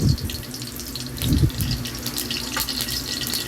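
Surf clams being rinsed under a running kitchen tap, a steady close rush of water splashing into a sink with small clatters of shells, no voices.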